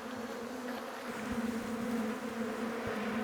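Honey bees swarm over an open hive on a farm, filling the air with a steady, dense buzzing hum. The drone holds continuously throughout with no voices.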